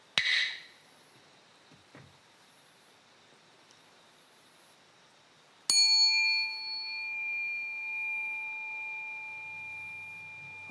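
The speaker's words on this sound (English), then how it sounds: "a bell indicates a short break in which tired limbs can be rearranged before the next session" A meditation bell marking a short break between sitting sessions in Japan or Korea rings once clearly, its tone ringing on and slowly fading in an otherwise quiet room after an earlier faint chime.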